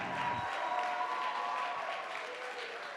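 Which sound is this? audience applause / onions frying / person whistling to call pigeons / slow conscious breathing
audience applause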